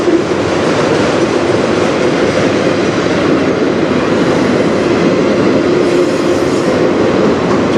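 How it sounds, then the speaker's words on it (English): A fully loaded auto rack freight train rolls past close by, giving a loud, continuous roar of wheels and rattling cars with rhythmic clickety-clack and a hint of wheel squeal throughout. "Probably one of the most amount of them I've ever seen on an auto rack train."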